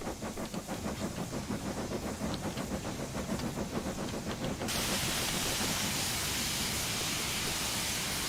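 A Black Five steam locomotive in Train Simulator 2021 chuffs in a rapid steady rhythm, then gives way to a loud continuous hiss of steam.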